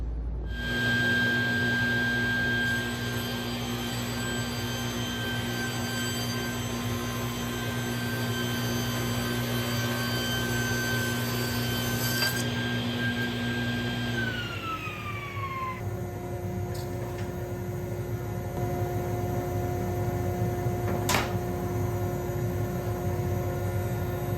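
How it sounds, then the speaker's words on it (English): A table saw trims the end of rough lumber: a steady, high motor whine with a low hum runs for about fourteen seconds, then the blade spins down with falling pitch and leaves quiet room noise. "My table saw blade will take just a shave off of that end"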